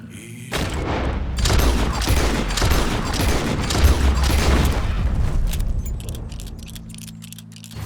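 Gunfire rings out in the Red Dead Redemption 2 video game during a circus animal rescue, a sustained loud burst of shots and booms over several seconds, with no speech.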